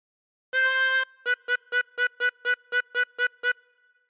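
A 16-hole tremolo harmonica plays a phrase of 99 Bottles of Beer on the Wall: one sustained note followed by a run of about ten short, evenly spaced repeated notes, bright, reedy and close, alone.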